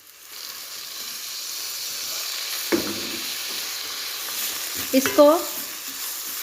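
Garlic ginger paste goes into lightly browned onions frying in a pan, and a soft, steady sizzle follows. Faint stirring and clinks come through near the end while a voice speaks briefly.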